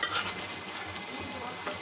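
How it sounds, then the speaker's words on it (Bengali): Potatoes tipped into a hot frying pan, a brief louder burst at the start giving way to a continuous hiss of frying with faint stirring. "তো এখন হচ্ছে আমরা আলুটা ঢেলে দিব।"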